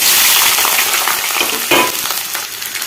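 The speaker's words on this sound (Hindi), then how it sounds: "अब मैं इसमें छौंक दूँगी।" Spices tempering in hot oil in a home kitchen give a loud, continuous crackling sizzle, with a brief burst of stronger spitting midway and no voices.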